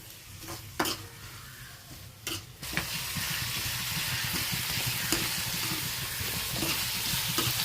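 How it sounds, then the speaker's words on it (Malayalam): Sliced onions with salt stirred in hot oil in a pan: a few clattering scrapes open, then a loud, even sizzle hisses on without a break, close by and with no voices. "അപ്പം ആദ്യം നമ്മൾ സവാളയാണ് ഇടേണ്ടത്. പാകത്തിന് ഉപ്പും കൂടെ ഇടാം. ഉപ്പിട്ട് ഇളക്കാം."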